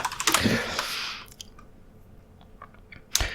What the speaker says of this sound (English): Start by typing "get out of bed."